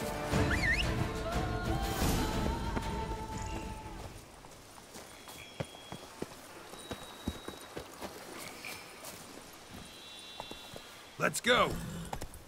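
Horse hooves clip-clop at a walking pace in The Witcher 3: Blood and Wine, a faint, steady run of soft knocks heard after a stretch of speech, with a brief louder scuffle near the end.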